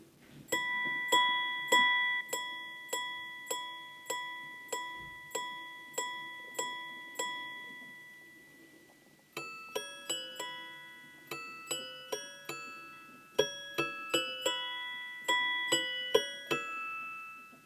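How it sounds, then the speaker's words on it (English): A Blancpain Grande Sonnerie watch strikes the Westminster chime, a clear sequence of bright, ringing bell-like tones in a steady melodic pattern that pauses briefly and then resumes, each note decaying cleanly in a quiet room. "Let's listen to the Westminster chime. This is the traditional melody that's been used in repeaters for centuries."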